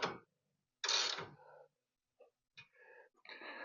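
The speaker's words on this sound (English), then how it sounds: "go ahead and take your ratchet and just snug them up a little bit" A ratchet snugs up nuts on a Ram 1500 hitch nut plate, giving short clicking and grinding bursts separated by silences, close and moderately quiet.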